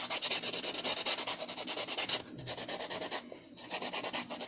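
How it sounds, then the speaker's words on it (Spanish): Sandpaper rubs back and forth along the half-trimmed edge of a craft foam sphere for a Christmas gingerbread doll, a steady, close scratchy rasp in quick strokes that pauses briefly midway, then resumes. "Y en la parte de la frente también vamos a lijar."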